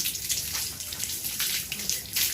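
Water washing over a sanded iron staircase, a steady hissing rush of running water with slight surges, fairly close and continuous with no talk.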